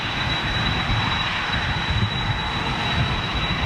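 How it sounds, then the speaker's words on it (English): Boeing 747 jet engines roar in a steady, loud, broadband rumble with a thin high whine running throughout, continuous with no talking. "But listen to this 747"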